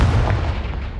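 A Confringo spell explosion in the Hogwarts Legacy video game: one loud, deep burst that rumbles and fades over about a second.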